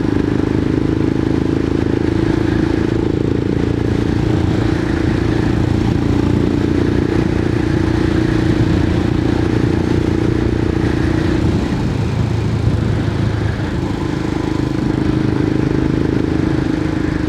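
A Royal Enfield Himalayan 411 single-cylinder motorcycle, freshly fitted with new valves, runs at low revs below 4,000 on a road, a steady droning engine note with slight pitch shifts, loud and close, no talk.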